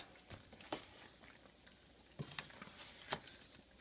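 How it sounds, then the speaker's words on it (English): Duck curry being stirred in a pot, with a quiet bubbling sizzle and a few soft scraping clicks scattered at irregular intervals, faint and close. "I'm going to give it a little stir."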